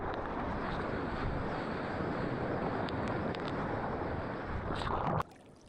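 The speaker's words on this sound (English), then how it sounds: "Look at this wind." Strong wind at a surf beach buffets the microphone in a loud, continuous rumbling roar that cuts off abruptly near the end, leaving quiet.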